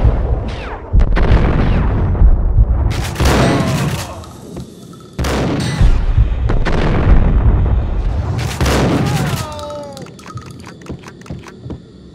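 Heavy booming explosions in the Max Payne video game, loud blasts with rumbling, crackling tails that ring out across the scene, while a voice talks in between.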